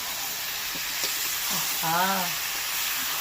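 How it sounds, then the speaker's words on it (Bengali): Fried new potatoes being sautéed with spices in a kadai for a duck egg curry give off a steady, close sizzle and hiss, with brief stirring and a short voice in the background. "এবার দিয়ে দেবো আলুটা, ভাজা আলু। এবার আলুর সাথে ভালো করে কষাতে হবে।"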